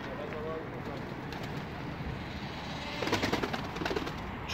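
Pigeons coo softly in a small backyard coop among flower pots, low murmuring calls under a voice, with a brief rustle of movement near the end.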